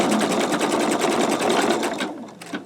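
An embroidery machine stitches a satin stitch onto a T-shirt, its needle hammering in a steady, rapid mechanical rhythm up close and loud, easing off and turning uneven toward the end.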